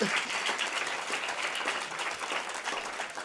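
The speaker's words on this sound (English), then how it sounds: "Thank you for clapping." An audience at a talk on farming and food claps, a short burst of dense, even applause at moderate volume that carries on steadily without anyone speaking.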